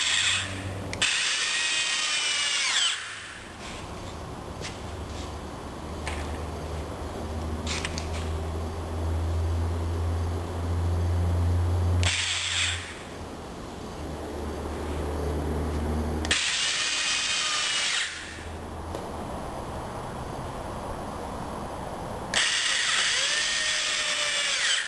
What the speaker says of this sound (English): So I'm just going to sink a few screws in, and that'll lock the anvil in place.